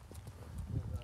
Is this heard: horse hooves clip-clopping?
yes